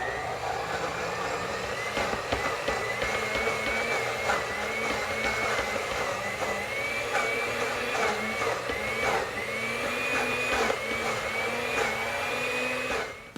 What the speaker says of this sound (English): I can tell by the way the blender is rocking, or the sound that it's making, that this mixture is very thick